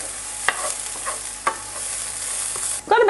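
Garlic and onion sizzling steadily in a hot pan for a healthy mini meatloaf mixture, a close, even hiss broken by a few louder stirring scrapes and a clatter near the end.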